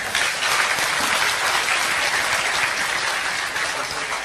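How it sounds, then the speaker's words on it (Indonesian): An audience at an Indonesian religious talk by Cak Nun bursts into sustained, dense applause, loud and even from start to finish with no voices over it. "Tepuk tangan untuk Allah Subhanahu wa taala."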